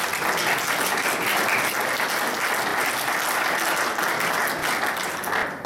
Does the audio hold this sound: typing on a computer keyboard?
no